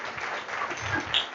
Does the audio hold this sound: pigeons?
no